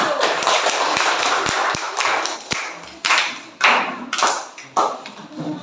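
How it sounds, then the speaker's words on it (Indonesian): A classroom group breaks into applause for the first presenting team, bursts of clapping with sharp individual claps, fading and rising again in short waves. "Ya, kita beri aplaus untuk kelompok 1."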